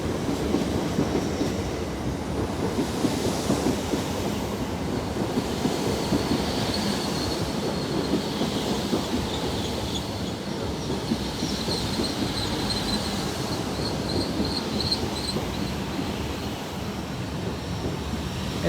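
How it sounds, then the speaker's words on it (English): An LNER Azuma train from York to London King's Cross passes through Doncaster station, wheels clattering and squealing in a long continuous rumble with high metallic screeches rising and fading along the rails. "Next, the 1256 LNER Zoomer from York to London King's Cross."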